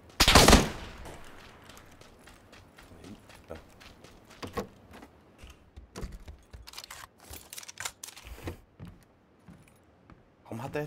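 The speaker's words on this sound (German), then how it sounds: "Ich habe doch nur weitergeschossen." Gunfire in the battle game PUBG: sharp single shots and short bursts crack out irregularly across the clip, one loud blast at the start and quieter shots later, with soft background game noise between.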